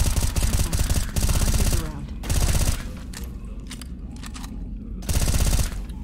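Modded weapon gunfire in Left 4 Dead 2, loud rapid automatic bursts in several stretches with quieter game ambience between, and some voices underneath.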